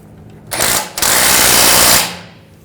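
A power tool snugs down a rear upper control arm bolt on a 2007-2013 BMW 328i in a garage: a brief burst, a short pause, then a loud sustained mechanical whir lasting about a second before cutting off.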